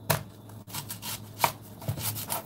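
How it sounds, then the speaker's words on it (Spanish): A knife chops through an onion on a cutting board in a home kitchen, giving a few scattered, fairly faint knocks and scrapes at an irregular pace with no voices. "déjenme cortar la cebolla"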